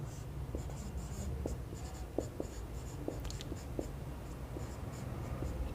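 Chalk writing on a classroom board, a series of short faint taps and scratches spaced irregularly over a low steady room hum.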